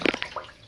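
Brief splashing and trickling of water from the faucet of a loaner washing machine during a Delicates cycle, a few close wet spurts fading quickly.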